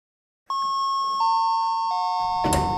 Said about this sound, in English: The door slid open with a chime